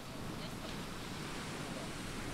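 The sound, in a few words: ocean waves on a beach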